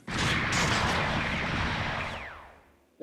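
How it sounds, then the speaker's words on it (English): A shotgun fired in a Gundam PS5 game, one heavy, booming blast that lingers and fades over a couple of seconds before another shot begins at the very end. "Now, let's use the shotgun."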